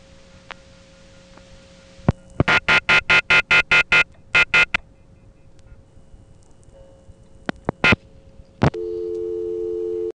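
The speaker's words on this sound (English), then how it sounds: "your dial tone would cease and would be replaced by high tone" A steady telephone off-hook permanent signal high tone from a 1970s–80s phone exchange, preceded by rapid rhythmic beeping bursts and a few clicks, then settling into a continuous loud tone near the end.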